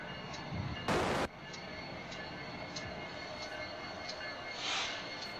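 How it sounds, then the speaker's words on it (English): A diesel locomotive with an EMD engine rumbles steadily at a distance, with faint rail clatter and a short burst of noise near the start. "Sounds like an EMD motor."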